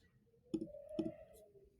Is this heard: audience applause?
no